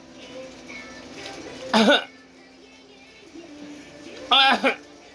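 A child coughs twice, short harsh bursts a few seconds apart, with quiet voices talking faintly in between.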